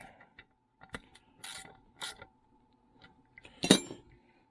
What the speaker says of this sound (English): Lock down your little nut that takes a 10 millimeter socket.